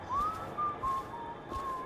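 Several short whistled notes in the video game Dishonored: The Knife of Dunwall, a thin tune in brief phrases, faint and slightly distant over a low background hum.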